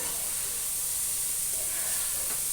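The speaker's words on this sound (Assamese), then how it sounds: "ভেন্দি আৰু পিঁয়াজ এনেকৈ 5 মিনিটমান এনেকৈ লৰাই থাকিব লাগিব।" Okra and onion stir-fried in a pan give off a steady, continuous sizzling hiss with no pauses, close and fairly loud throughout.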